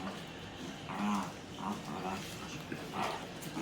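A dog whimpers indoors on a snowy day, giving a few short, high, tonal whines spaced over a few seconds against a low household background.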